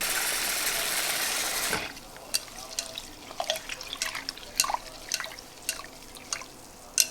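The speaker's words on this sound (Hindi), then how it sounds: "तो मैं दाल धो के लाती हूँ, फिर मैं आपको बताती हूँ।" Water running from a tap and dripping while lentils (daal) are rinsed in a home kitchen, a steady gush for about two seconds, then scattered close drips and splashes with no talk.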